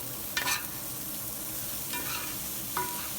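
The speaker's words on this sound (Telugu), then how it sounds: "ఇప్పుడు ఈ మ్యాగ్నేట్ చేసిన బియ్యాన్ని ఇలా వేసుకుందాము. వేసుకొని ఒక్కసారి ఇలా కలుపుకొని" Marinated rice for chicken pulao sizzles steadily in a pan while a spoon stirs it, three short scraping strokes rising above the constant frying hiss.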